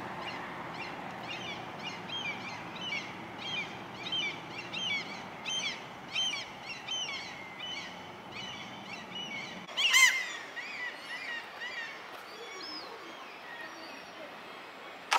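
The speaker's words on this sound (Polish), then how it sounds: "A mewy nas zapraszają na wycieczkę." Seagulls at Geiranger fjord in Norway give repeated short calls in a rapid series at moderate distance over faint outdoor background, with a brief louder burst partway through.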